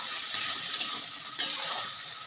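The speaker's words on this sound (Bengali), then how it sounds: "এটা আমি ভালো করে কষিয়ে নিই 10 মিনিট।" Kashmiri chili powder and salt sizzle in a pan of chicken curry, a steady close hiss of frying broken by a few scraping stirs.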